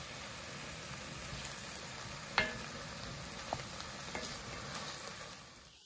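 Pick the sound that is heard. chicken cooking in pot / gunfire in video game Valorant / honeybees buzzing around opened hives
chicken cooking in pot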